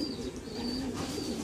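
Racing pigeons in a Cavite loft coo softly, with low, throaty rolling coos close by, a few faint higher chirps above them, and no talking.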